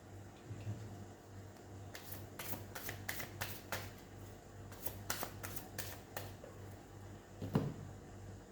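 Tarot cards are shuffled in a quiet room. Several quick papery riffles and flicks come in bursts over a faint low hum, with a soft tap near the end.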